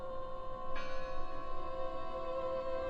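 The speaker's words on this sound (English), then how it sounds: "It must be her ringing the bell." A bell rings in the video game Draugen, a sustained resonant tone with a brighter strike partway through, moderately loud and heard alone.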